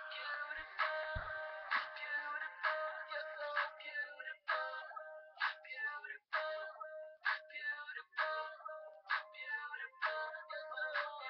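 A cell phone ringtone plays as a bright, repeating electronic melody of short chiming notes, moderately loud and alone without talk.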